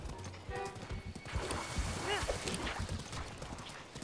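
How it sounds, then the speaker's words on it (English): In Zelda: Breath of the Wild, a horse whinnies once mid-clip while hooves clip-clop rhythmically under game sounds, with a voice talking over it. "Just having a horse."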